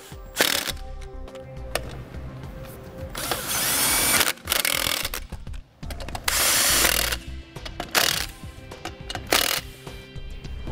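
A power tool with a 21 mm socket tightens trailer wheel lug nuts, giving repeated close, loud bursts of whirring and ratcheting rattle separated by short pauses.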